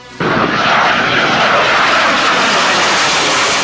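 A Soviet-built MiG-29 fighter jet of a Ukrainian tactical aviation brigade roars in flight. A loud, dense, sustained engine rush cuts in abruptly and holds steady to the end.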